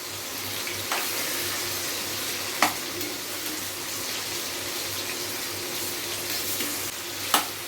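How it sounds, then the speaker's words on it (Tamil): Spicy chicken wings frying in oil in a pan give a continuous soft sizzle, with a few sharp scraping knocks as they are turned. "சிக்கன் வந்து இந்த எண்ணெயிலே நல்லா வெந்துடணும்"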